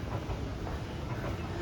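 Amsterdam metro train running along the M53 track through Duivendrecht station, a steady close rumble with rolling wheel noise and faint rail clatter throughout, no talk.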